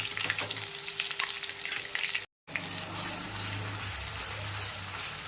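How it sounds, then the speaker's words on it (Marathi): Ground spice paste (vatan) sizzling and frying in hot oil for a Maharashtrian katachi amti, a steady close crackle with stirring, briefly cut by a short silent gap partway through. "आता लगेचच आपण जे वाटण तयार करून घेतलं होतं ते तेलामध्ये टाकायचं आहे आणि तेलामध्ये चांगलं परतून घ्यायचं आहे वाटण"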